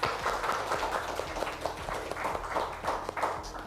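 Classmates clap after a class presentation in a school room, a steady patter of many hands that is fairly loud and near, running throughout with no speech over it.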